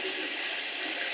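Tap water runs steadily into a bathroom sink, an even hiss of flowing water for the brief span while a clay mask is being rinsed off.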